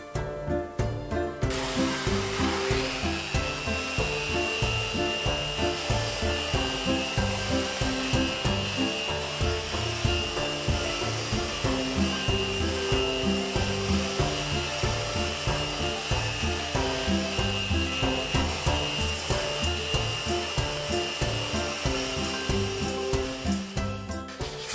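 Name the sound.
Rotex orbital sander sanding wooden cabinet door panels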